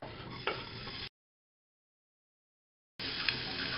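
Soft sizzling of chopped onion frying in rapeseed oil, close up, broken by a stretch of complete silence before the sizzle resumes.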